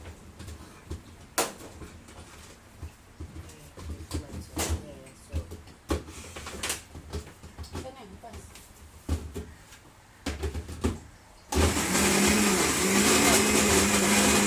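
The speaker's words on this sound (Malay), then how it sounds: "kita blender dulu lada" A person talks over brief kitchen clatter, then a loud blender kicks in near the end, roaring steadily as it blends chili peppers.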